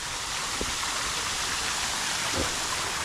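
A small freshwater stream runs past a coastal trail campsite after rain, close to the ocean, giving a soft, continuous rushing and trickling wash with no voices, steady and fairly quiet throughout.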